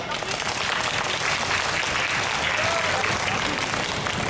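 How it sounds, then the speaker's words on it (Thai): A large audience at a youth Thai country-song (luk thung) singing contest applauds steadily, a dense, loud wash of clapping that holds throughout with voices mixed in. "สำหรับเสียงปรบมือนะฮะ"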